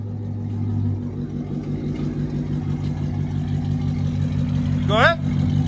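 A BMW M3 or Dodge Charger Scat Pack engine idles with a deep, steady throb, then gives one short rev near the end, heard alongside people talking.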